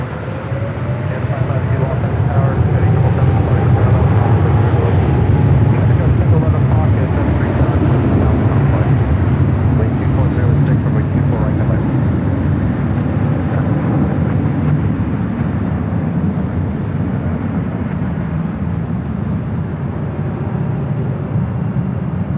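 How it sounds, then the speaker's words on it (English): A FedEx A330 or A300 jet takes off at Los Angeles International Airport. Its engines make a loud, sustained low roar that rumbles steadily throughout, heard from a distance outdoors with no voices. "Was there a FedEx A330 or A300 that just took off?"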